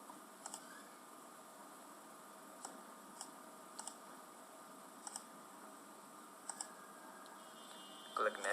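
Crisp computer mouse clicks ring out singly and in quick pairs at irregular intervals, close and distinct against a quiet background, while a person talks faintly.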